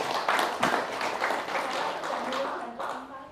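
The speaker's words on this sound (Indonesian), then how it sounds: "tepuk tangan ya" A modest audience claps steadily for a few seconds at a talk, a close, crisp patter of hands with no voices standing out.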